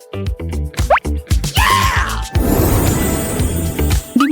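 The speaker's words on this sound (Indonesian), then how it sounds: "Dimulai dengan tetesan kecil." Chocolate soda falls in small drops, a run of quick plops and drips, then gives way to a longer wet fizzing, splashing stretch that ends with a final plop.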